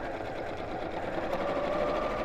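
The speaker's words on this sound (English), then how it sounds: "I'll chain stitch these together, which means as I'm coming up to the end of one, I'm just going to stick the next one under there and carry on" A sewing machine chain stitching fabric pieces together in a steady continuous whir, close and even throughout, with no voice over it.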